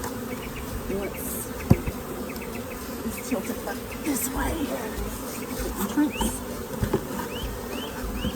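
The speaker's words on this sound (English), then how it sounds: "they're nurse bees, so they're not going to really fly out" Honeybees buzz steadily in a dense, close hum around an open hive frame with nurse bees, while a person speaks briefly over them, with a few faint knocks and clicks.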